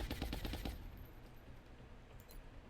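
A rapid burst of suppressive machine gun fire in XCOM Enemy Within's Long War mod rattles briefly at the start, then fades into a quiet, low ambient hum.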